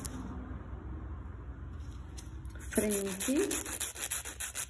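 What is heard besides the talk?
nail file sanding the side wall of a gel nail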